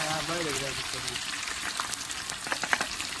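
Spices tempering in hot oil for a mixed vegetable curry at an outdoor farm gathering, a loud, dense crackling fry with popping bursts, and a voice briefly heard at the start.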